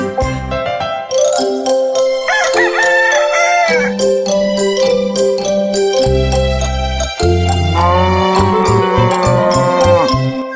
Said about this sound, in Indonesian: Dengar suara ayam berkokok di sana seperti alarm.